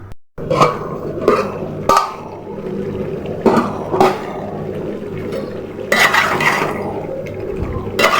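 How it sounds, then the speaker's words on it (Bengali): Beef is stirred and sautéed in a pot, with a spoon knocking and scraping against the metal in irregular clanks over a soft sizzling bed. "এই তো মাংস কষানো হয়ে যাচ্ছে।"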